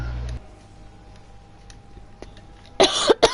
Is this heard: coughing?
yes